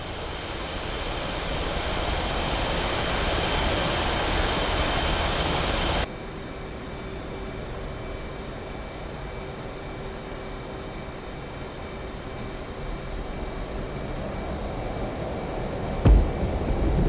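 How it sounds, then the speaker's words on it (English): Constant roaring whine of F/A-18 jet engines spooling at full power for a carrier catapult takeoff in DCS World, a loud broadband rush that drops in level partway through and then holds steady, with a brief thump near the end. "When ready, go to full power and initiate the catapult stroke."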